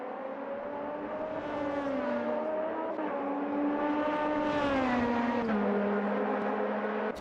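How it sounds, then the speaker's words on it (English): An LMP2 prototype race car engine in the Automobilista 2 sim racing game at Sebring, droning loudly and continuously with rising and falling revs and a drop on a gear shift, alone without voices. "They do sound nice, these"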